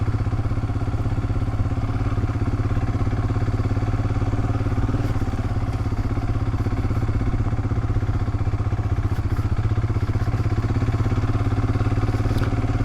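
A Royal Enfield Himalayan motorcycle carrying a pillion rider on an off-road trail, its mid-pitched engine droning steadily and loud throughout, with light clatter from the bike over rough ground and no talking.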